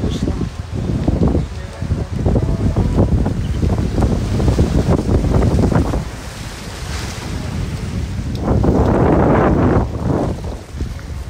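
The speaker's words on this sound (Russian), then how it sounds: "Буквально 10 минут поднимается жуткий ветер" Strong gusty wind buffets the microphone outdoors by the sea, roaring in loud rumbling bursts with waves and surf behind, swelling again near the end.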